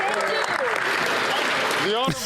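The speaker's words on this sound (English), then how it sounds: "Freeland in the back clapping" Clapping in a parliament chamber, a brief burst of applause running under loud, overlapping speech from members.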